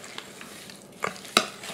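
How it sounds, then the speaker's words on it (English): Mixed berry jam mixture with a pat of butter being stirred in a bowl, giving faint soft scraping and a sharp clink near the end. "I'm going to mix all this up."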